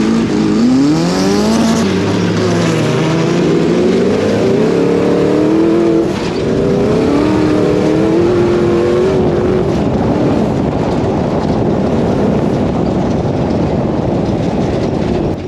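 Turbocharged engine of an old-school VW-based dune vehicle during a drag run at Glamis dunes, a loud sustained roar rising and falling in pitch as it revs, heard close and alone.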